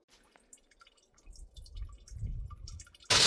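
Water drips and trickles from a broken outdoor shower on an RV in freezing weather, with sparse small drips followed by a low gurgling drain and a sudden louder gush of flow at the end.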